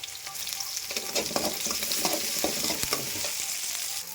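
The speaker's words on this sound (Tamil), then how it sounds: "எண்ணெய் காஞ்ச உடனே ஆஸ் யூஷுவல் நம்ம கடுகு சேர்த்துடலாம் ஸோ அதுக்கடுத்து ஆனியன் கருவேப்பிலை சேர்த்துக்கலாம்" Mustard seeds, onion and curry leaves fry in hot oil with a continuous bright sizzle and crackle, occasional stirring clinks, up close and without any voices.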